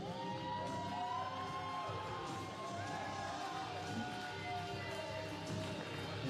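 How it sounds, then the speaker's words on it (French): A wrestling crowd at an NCW event in Sainte-Thérèse cheers and applauds for Carl Jepson, a steady, dense roar of voices with whoops filling the whole stretch under a busy mix. "Et la foule, on les entend bien. Les applaudissements pour Jepson."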